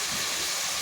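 Tempering spices frying in hot oil with green chillies and coriander, a dense steady sizzling hiss that stays loud and close throughout the short moment, with no talking over it.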